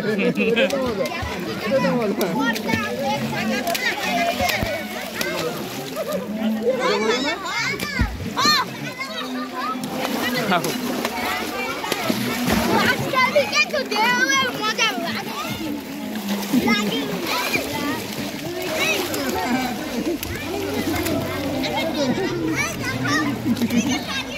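Children splash and play in water while learning to swim at an outdoor company picnic, steady splashing mixed with lively kids' chatter and adult voices talking throughout.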